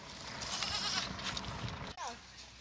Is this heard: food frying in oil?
no